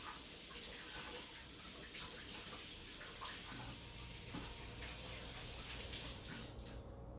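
Water runs continuously from a kitchen tap while a basket is rinsed, a steady splashing hiss with small clatters throughout, fairly close and alone.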